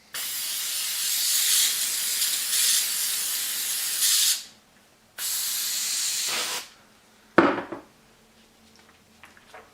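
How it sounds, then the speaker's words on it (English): 3M Super 77 spray adhesive hissing from an aerosol can while coating the underside of a paper pattern: two long steady bursts of about four and one and a half seconds, then a short sharp clatter and faint handling noises. "you use a repositional adhesive such as 3M Super 77 and completely coat the underside of the blank"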